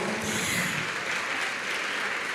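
A church congregation applauds Pastor Alonso, a dense, steady wash of clapping from many hands filling the room without a break.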